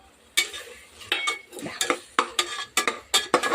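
A metal spoon scrapes and clinks against a pan, close up, as ginger-garlic paste is stirred in for a biryani, in a quick series of sharp strokes that grow more regular, with no talking.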